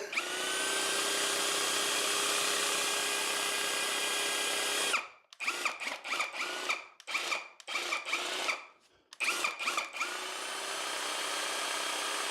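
An airless paint sprayer pump whines steadily, cuts out, then sputters on and off in short bursts before settling back into a constant drone, failing to spray unthinned paint.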